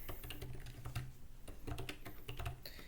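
Fingers tap steadily on a computer keyboard during a programming session, a continuous quiet patter of keystrokes heard close and alone.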